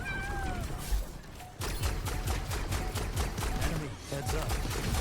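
Meowing from the jetpack cat in the Overwatch video game rises through a dense, loud mix of rapid gunfire bursts and battle effects, with a short lull partway before the firefight resumes.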